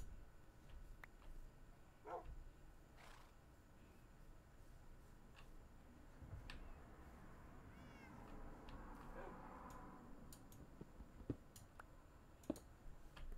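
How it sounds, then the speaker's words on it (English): A cat meows faintly in a video game, a single drawn-out call in the middle of a quiet stretch that also holds scattered soft clicks. "Kitty does go meow."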